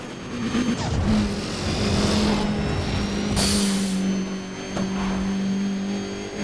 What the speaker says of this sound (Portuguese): vocês viram um carro passando ali a milhão?